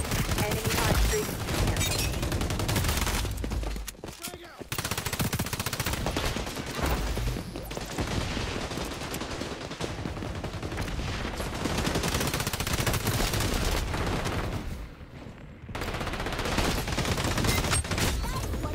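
Near-constant automatic gunfire rattles in the shooter game XDefiant, loud and dense, with rapid bursts that pause briefly a couple of times before resuming.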